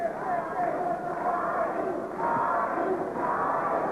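A boxing arena crowd chants for Arturo Gatti, a steady rhythmic roar of many voices rising and falling in waves, with a commentator's voice faintly in the mix.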